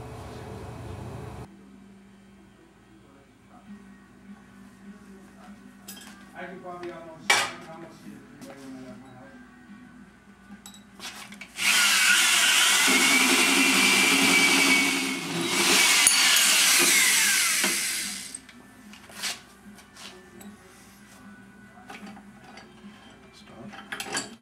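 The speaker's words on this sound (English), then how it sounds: "Position the tube center line again with the center line of the hole saw and make the notch." A hole saw cuts a notch into a 1-inch tube, a loud sustained grinding whir lasting several seconds amid quieter workshop handling clatter before and after.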